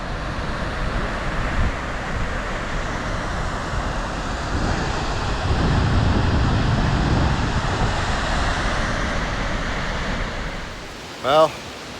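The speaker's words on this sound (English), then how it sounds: "Here's the waterfall." The Fimmvörðuháls waterfall in Iceland sends out a steady, broad rushing roar, fairly loud and continuous, with some wind buffeting the microphone.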